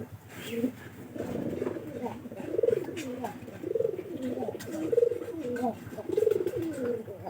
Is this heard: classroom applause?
no